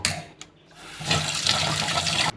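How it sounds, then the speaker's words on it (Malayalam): Cold water is poured from a tap over boiled quail eggs in a pan, a brief quiet gap followed by a loud, steady rushing splash. "മുട്ടയുടെ തോട് നമുക്ക് എളുപ്പം ഇളകി കിട്ടാൻ വേണ്ടി നമുക്ക് തണുത്ത വെള്ളം ഒഴിക്കാം."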